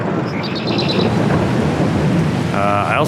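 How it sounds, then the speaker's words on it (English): Heavy rain in Farming Simulator keeps up a loud, dense hiss from start to end, with a low rumble beneath and faint chirps on top. "it's not supposed to be till about 1 o'clock before the rain stops"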